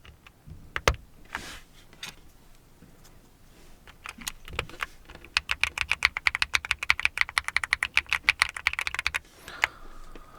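Close-up typing on an EPOMAKER Feker Galaxy80 mechanical keyboard with factory-lubed light, smooth switches: a few scattered key presses, then a fast, steady run of muted, rounded clacks before it stops.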